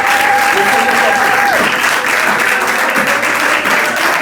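A church congregation claps continuously and loudly throughout, a dense even applause with a sustained tone from a voice or instrument running beneath it.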